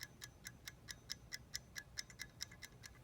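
A Kikkerland 55-minute metal-faced kitchen timer ticks after being twisted, giving faint, crisp, evenly spaced clicks at about four per second.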